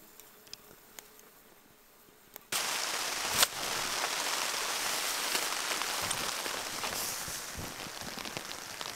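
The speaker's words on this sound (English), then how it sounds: "It's raining again." Steady rain falls outdoors in the Wabakimi wilderness, arriving abruptly after a quiet start and continuing as a dense, even hiss with occasional sharper drops.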